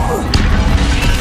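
Incendio fire spell in Hogwarts Legacy, a sharp crashing whoosh burst with a bright crack partway through, loud and close amid game sound.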